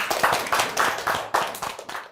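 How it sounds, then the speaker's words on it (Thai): A class of pupils clapping for a classmate, a short burst of rhythmic, evenly spaced claps from a small group, close and steady, with no talk over it. "ปรบมือให้กับโยโย่ค่ะ"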